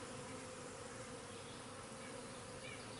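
Honeybees buzz inside an open hive during an inspection, a dense, continuous drone close up and without a break.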